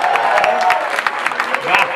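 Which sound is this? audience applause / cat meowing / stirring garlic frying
audience applause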